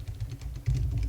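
Soft, quick tapping on a computer keyboard while writing Django model code, a steady patter of keystrokes that grows slightly louder partway through, close and quiet.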